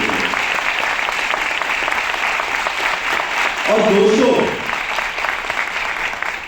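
Audience at a business and digital marketing event clapping loudly for their mentors, a sustained round of applause with a voice speaking over it.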